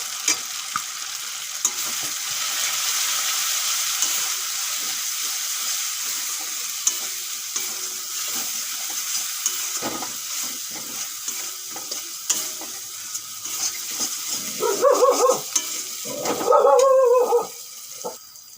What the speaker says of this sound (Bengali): মশলা ভালো করে কষানো হয়ে গেছে